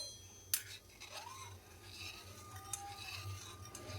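A spoon clinks and scrapes quietly against a pan while milk with two tablespoons of sugar is stirred, with a sharp tap near the start and faint irregular scraping afterward, without speech.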